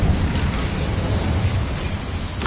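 A fire spell cast in the Hogwarts game gives a steady roaring whoosh of flame, loud and sustained with heavy low rumble and no clear breaks.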